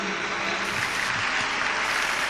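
An audience claps steadily at a religious gathering honouring a guest, dense sustained applause with no pauses throughout.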